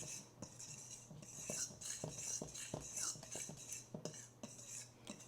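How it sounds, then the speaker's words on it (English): A fork scrapes and clinks against a bowl while mixing garlic cheddar biscuit dough, giving a steady run of close, fairly quiet taps and scrapes with no talk. "I'm just going to give it a mix with a fork"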